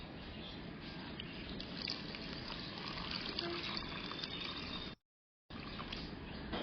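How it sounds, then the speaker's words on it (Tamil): Water pours steadily into a rose plant pot, a continuous splashing gush that runs for several seconds, breaks off briefly, then resumes, with no talking over it. "இப்போ நம்ம வந்து தண்ணி ஊற்றி பார்க்கணும்."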